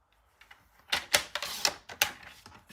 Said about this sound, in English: Let's cut off a 1/2 inch.